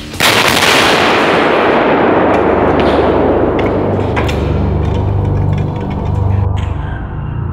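A single massive, explosive blast from an RPG-28 grenade launcher erupts, then a long roaring rumble and rattling echo that slowly fades, very loud and close.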